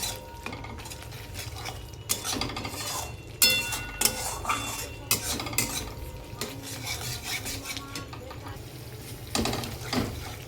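Masala for paneer masala being stirred and fried in a pan, with a spatula scraping and clinking against the metal in uneven strokes over a low sizzle, moderately close with no talk.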